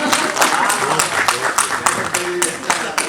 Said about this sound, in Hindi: एक बार तालियां बजा।